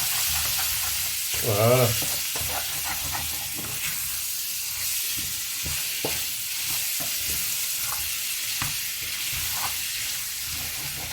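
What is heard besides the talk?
spoon stirring and scraping spices frying for veal tajine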